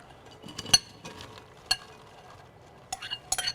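Chopped onions are moved into a container for taqueria-style pickles, a few sharp clinks and scrapes of utensils and dishes spread across a quiet kitchen, close and intermittent, with no talking.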